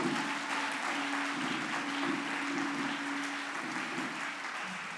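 A church congregation at a Sunday service claps and cheers, a sustained wash of applause with a held vocal tone running underneath, fairly distant and even throughout.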